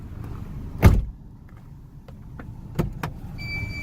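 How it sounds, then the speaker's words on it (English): A 1989 Honda CRX Si's car door slams shut with a solid thump, then after a pause a second, sharper slam follows, with faint mechanical clicks between. "So I'm gonna slam the door."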